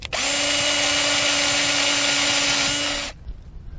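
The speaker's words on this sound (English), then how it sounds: "Next we're going to go ahead and drill the vent hole." A power drill bores a small vent hole in the pipe of a Zoeller M98 sump pump, a loud, steady whine held close up for about three seconds before it cuts off into quiet.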